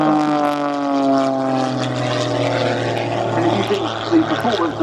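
A Pitts S-2S aerobatic biplane flies at an airshow at Scampton, its propeller engine giving a steady, strong droning tone with rich harmonics that holds throughout.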